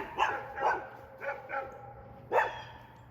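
Dog barks near a house by an old abandoned airstrip, coming in about five sharp, irregular barks at moderate distance, with no talking.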